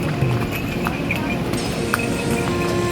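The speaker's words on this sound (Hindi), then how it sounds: "आधा किलोमीटर तक हम लोग आ गए हैं घोड़े की सवारी से।" Horse hooves clip-clop along the Yamunotri pilgrimage trail during a pony ride, a steady close rhythm of hoof strikes under continuous background noise and a little talk.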